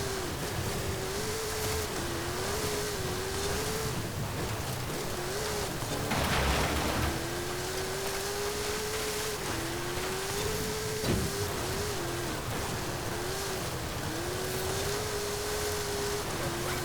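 Jeep Gladiator Rubicon, fitted with a much larger engine than stock, racing offroad in Forza Horizon 5: a sustained engine drone that rises and falls through repeated gear shifts, with a brief gritty burst of rough-terrain noise partway through.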